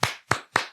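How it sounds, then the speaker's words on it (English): Three sharp hand claps from one person, evenly spaced and fairly close, each a crisp slap with a short decay and no voices. "Well, I was clapping."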